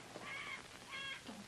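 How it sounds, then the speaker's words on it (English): A distressed bird squealing indoors in an old television drama, heard as two faint, drawn-out cawing cries about half a second apart over a steady background hiss. "You're just going to stand here and listen to that bird squeal itself out?"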